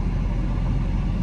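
A parked car's engine idles as its windscreen defrosts, a steady low rumble that stays even and close throughout.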